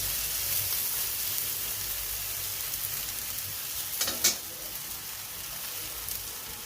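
Coriander thalipeeth fries in oil on a pan, giving a continuous close sizzle with one short sharp clatter midway and no voices.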